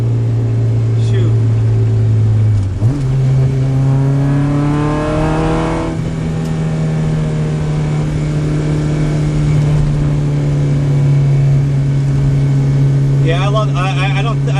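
An Acura Integra with a swapped Honda K24 engine drones and rises in pitch as it accelerates, loud and close, with a brief drop as it shifts gear partway through.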